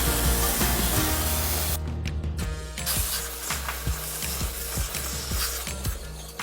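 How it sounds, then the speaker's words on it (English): Cleaner spray is hosed onto a dirty mini split coil with a Jon Wayne HydroKleen, giving a loud continuous hiss with a brief break and then a rhythmic pulsing of spray against the metal fins. "Right here we're going to spray down our coil, spray down with our cleaner"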